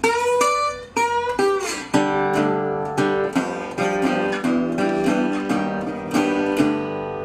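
A guitar plays the turnaround from a Delta blues song, a run of distinct plucked notes in a loose, bluesy rhythm that closes on ringing open strings and an open chord, played solo and close.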